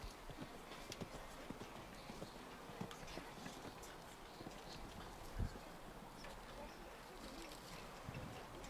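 Horse hooves on a grand prix show jumping course, a steady clip-clop of strides heard at a distance under a busy arena ambience with wind and crowd murmur, plus faint commentary.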